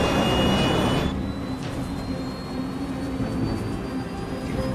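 Aircraft engine roaring through a steep, stuttering climb, loud at first and then settling into a steady, slightly wavering drone.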